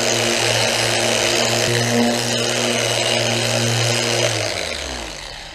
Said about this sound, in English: tell if you're putting too much pressure on the buffer because this won't turn anymore